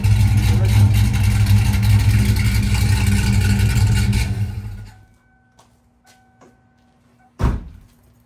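Car exhaust with 3-inch inlets, 2.5-inch outlets and a 2.5-inch catback, a loud steady engine drone that cuts off abruptly, followed by quiet, a few clicks and a single door thud.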